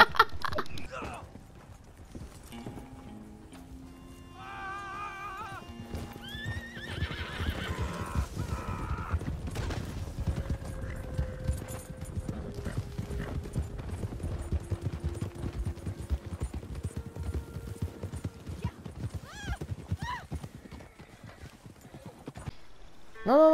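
Horses in the Red Dead Online video game gallop with steady clip-clop hoofbeats and let out several whinnies early on, loud and continuous across the clip, with game ambience and occasional voices mixed in.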